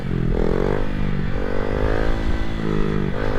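Motorcycle engine held steady during a wheelie at the balance point, a close, loud, sustained drone with small throttle wavers and no talking.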